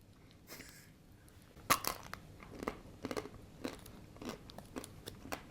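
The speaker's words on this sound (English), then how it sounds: "when you bite into this, the crunch of the chocolate" Several sharp, close crunches as a chocolate-coated ice cream bar from a Japanese convenience store is bitten, followed by softer chewing crackles spaced irregularly, with no talking.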